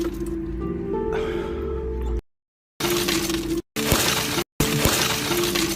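Glass shattering from a car window that was half rolled up, several loud crunching and breaking bursts separated by short gaps, close to the microphone.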